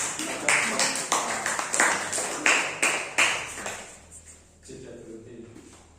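Students in an Indonesian classroom clap in a short series of sharp, rhythmic bursts that fade out after a few seconds, followed by quieter room sound and a voice.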